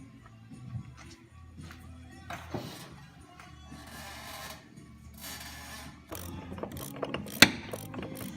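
A ratchet wrench working against a custom holding tool on the transmission output flange nut of a BMW E46 M3, giving repeated mechanical clicks, metallic clanks and one sharp snap as the nut breaks loose.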